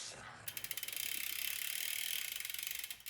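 A bicycle chain spins through the derailleur and pulley wheels after a UFO Drip chain coating, starting with a few separate clicks, then settling into a fast, steady ratcheting whir close by.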